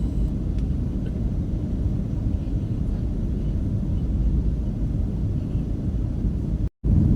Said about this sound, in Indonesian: ini pesawat kita sudah terbang rendah